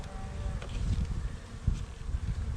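Bees buzz around a beehive during hive assembly outdoors, a continuous near swarm drone with a few louder passes close by.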